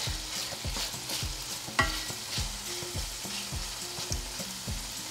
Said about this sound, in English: Continue to stir it so it doesn't stick and burn.